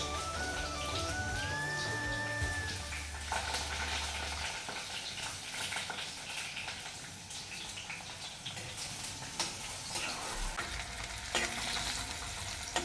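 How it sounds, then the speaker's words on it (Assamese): Onions, green chilies and whole cumin frying in hot oil for a fish curry, a steady close sizzle with bursts of crackle and scraping stirring, no talk, over a faint musical tone at the start. "এয়া মই ধুনীয়াকৈ পিঁয়াজ জলকীয়া আৰু গোটা জিৰাখিনি ভাজি ল'লোঁ"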